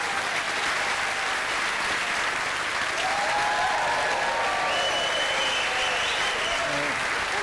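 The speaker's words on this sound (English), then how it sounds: "give him a round of applause" A TV studio audience applauds a volunteer, loud sustained clapping filling the room, with a voice briefly heard over it.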